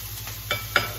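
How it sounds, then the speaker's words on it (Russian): Food frying in a pan with garlic and black pepper added, a steady low sizzle with two brief stirring scrapes, close and alone without talk. "Так, там у меня жарится."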